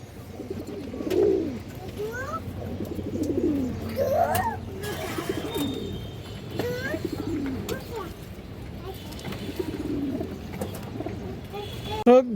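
Pigeons kept for sale, including purple-necked Makhra birds, coo repeatedly up close in soft, rolling bursts, with occasional higher chirps mixed in over a steady background.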